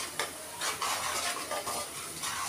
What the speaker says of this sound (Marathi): आणि परत एकदा असं हलवायचं